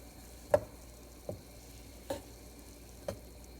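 Butter melts in a frying pan under a faint, low background hiss, while four soft, evenly spaced taps or clicks sound close by, with no voices.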